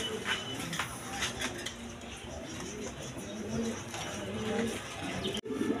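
Pigeons in a loft coo softly and continuously beneath a busy, hissy background, the low murmuring calls overlapping with scattered chirps and faint voices.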